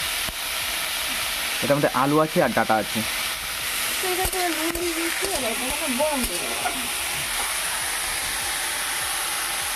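A modern stove gives off a steady gas-like hiss beneath frying potatoes and stems, a continuous broad rush throughout while someone talks over it in the middle.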